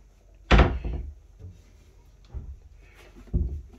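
Short cupboard door in a Braidbar narrowboat cabin swung shut with a solid wooden thunk, followed by a couple of softer knocks and a later second bump, close and indoors.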